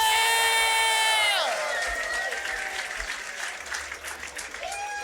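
Crowd at the 2024 USA Beatbox Championship cheering and applauding after a solo battle, a loud sustained roar of clapping and whoops that eases slightly but keeps going, with a voice shouting over it.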